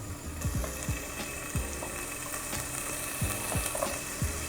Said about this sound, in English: we can start heating up the pan and we'll throw our bacon in